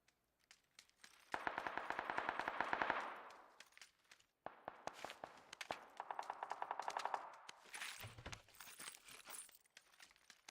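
Automatic rifle fire in the PUBG battle royale shooter, rapid bursts of sharp shots in several long volleys with short pauses between, loud and close, plus a final crunchy burst near the end.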